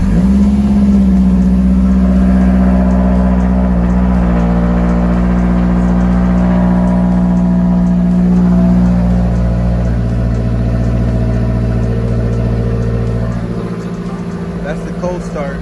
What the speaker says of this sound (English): That's the cold start.